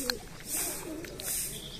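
Pigeons cooing close by in a loft while grain is scattered for them: soft, repeated throaty coos rise and fall, with faint brief high chirps and a voice murmuring in the background.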